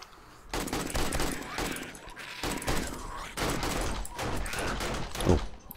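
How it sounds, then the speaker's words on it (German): Rapid bursts of gunfire in the zombie survival game 7 Days to Die, loud and close. Dense volleys come in clusters separated by brief pauses, with a sharp single crack near the end. "ich höre dich, wie gesagt, schießen"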